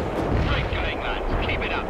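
Artillery fire in the World in Conflict video game: a dense, continuous rumble of booming shots and blasts layered together, loud and sustained throughout the clip.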